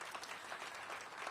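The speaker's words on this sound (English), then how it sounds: "Give them another round of applause." A crowd at a health center re-dedication event applauds, a dense steady patter of many hands clapping, fairly faint and continuous across the short moment.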